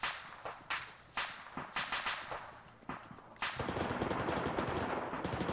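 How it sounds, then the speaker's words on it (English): A ZSU anti-aircraft gun firing in the military video game Arma 3, sharp repeated cracks in short bursts, then a sustained rapid volley with no talk. "More ZSU shots coming from the southwest"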